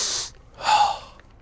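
A character in The Texas Chainsaw Massacre game snorts a line: a sharp, close nasal sniff, a brief pause, then a longer, harder snort, with no talk.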